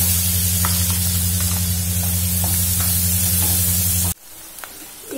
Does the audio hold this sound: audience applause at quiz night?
no